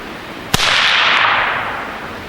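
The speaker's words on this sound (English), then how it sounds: "This is the Liberty Mystic suppressor." A single sharp, close report from an AR-15 fired through a Liberty Mystic suppressor, followed by a hissing, airy wash that fades over about a second and a half.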